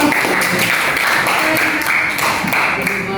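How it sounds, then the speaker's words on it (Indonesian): A classroom of children bursts into applause, many hands clapping in a fast, dense patter that holds steady for a few seconds, with some voices mixed in. "tepuk tangan buat kita semua"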